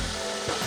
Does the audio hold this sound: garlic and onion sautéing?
yes